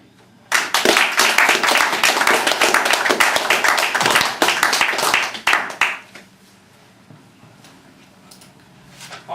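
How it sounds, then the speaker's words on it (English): Audience applause after a poetry reading at an open mic event in a London pub: a loud, dense burst of many clapping hands that starts abruptly, holds for about five seconds, then thins out and stops. "another round of applause please"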